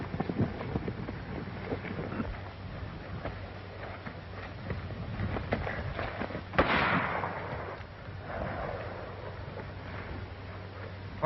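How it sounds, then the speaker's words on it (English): Fireworks pop and crackle in a 1930s Western film scene, a steady busy stream of bursts with one sharper, louder blast partway through over a background of hoofbeats and commotion. "right about now, they're looking at some fireworks"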